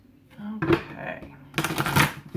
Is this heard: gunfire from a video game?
no